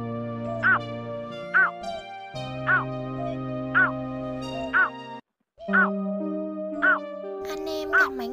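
Recorded calls of a painted-snipe and a crake, played as a lure for migratory birds, repeat at a steady pace of about one loud call per second over continuous background music, with one brief pause partway through.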